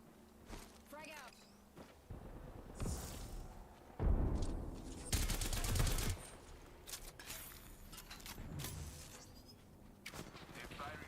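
Gunfire and combat noise from the Apex Legends battle royale game: bursts of rapid shots and impacts layered with dense game effects, with two loud stretches in the middle, all under ongoing background chatter.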